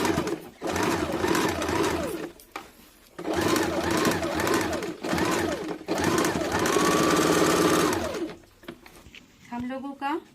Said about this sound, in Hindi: सिलाई को डबल सिलाई डाल देंगे।